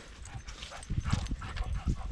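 Dogs at a rural homestead, a golden retriever puppy and two old Labradors, give soft yips and whimpers with scuffling thumps as they run around, moderately close in open outdoor air.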